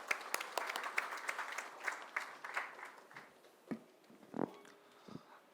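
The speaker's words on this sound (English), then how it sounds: "Let us welcome Yogesh Thar with a big round of applause," Audience applause welcoming a guest speaker at a taxation refresher course, a steady patter of many hands that thins out toward the end, with a few louder isolated claps.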